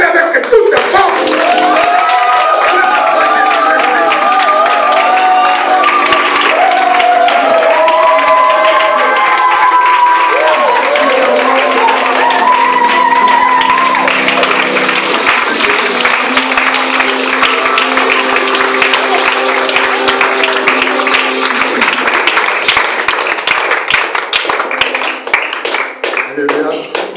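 A church congregation claps and cheers in praise of Jesus Christ, sustained dense applause with voices and shouts filling the room throughout.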